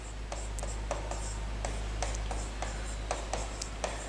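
Pen strokes scratch and tick across an object in short, irregular marks over a steady low hum, fairly faint, with no speech.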